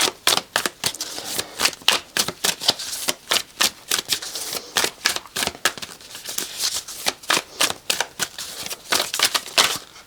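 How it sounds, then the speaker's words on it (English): A deck of tarot cards being shuffled by hand, a rapid series of crisp riffling snaps and flicks in irregular bursts, close and clear with no talking. "one more shuffle"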